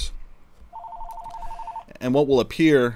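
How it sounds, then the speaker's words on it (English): A telephone rings with a short burst of a warbling electronic tone near the start, then a sustained ringing tone, with a person starting to talk at the end. "Sorry about the phone. I'm just going to let it ring."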